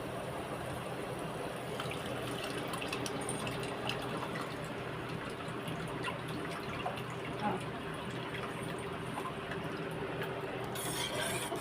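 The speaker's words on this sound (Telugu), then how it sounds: "ఇప్పుడు చింతపండు ముందుగా మనం నానబెట్టుకొని బాగా ఈ విధంగా తొక్కలు లేకుండా రసము దాంట్లో పోసుకుందాం" Soaked tamarind juice is poured into a simmering fish curry, making a steady, soft stream of liquid that continues throughout with a few faint clinks.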